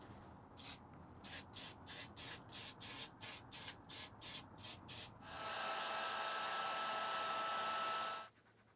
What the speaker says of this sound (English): we will spray a clear coat on this squirrel